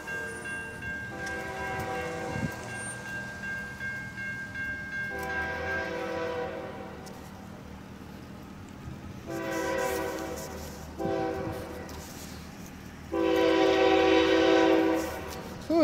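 Canadian National freight locomotive 2898 sounds its horn approaching a grade crossing in Effingham, Illinois: a series of long, moderately distant blasts, the last one loudest, over a low rumble.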